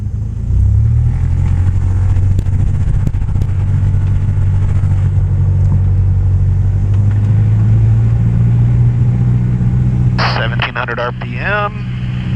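Light aircraft engine run-up before a solo flight: a steady, loud propeller engine drone that holds a low, even hum throughout, with brief radio or voice chatter near the end.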